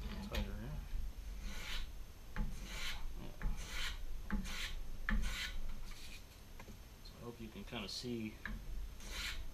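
Hand plane shaving a wood foundry pattern for an angle plate casting, with repeated rasping strokes at close range mixed with workshop handling noises and someone talking over the work.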